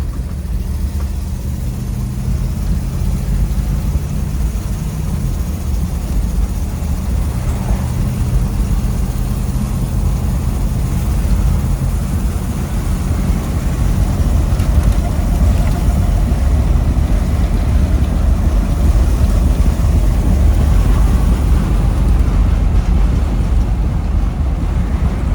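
A 1973 Chevrolet G20 factory camper van's engine runs steadily and loud, with a dense low rumble that swells slightly as it is given gas, mixed with heavy wind and road roar throughout.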